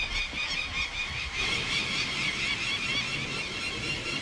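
Peregrine chicks squeal in a continuous shrill, high-pitched chorus while being ringed, close and steady with no pauses.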